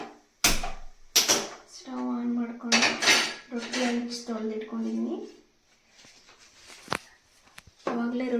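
Metal pot and lid clatter sharply several times in a home kitchen as a pot of cooked palya vegetable dish is covered and set aside, clanks near and loud with someone speaking between them.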